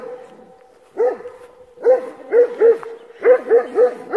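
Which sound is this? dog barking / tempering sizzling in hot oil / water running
dog barking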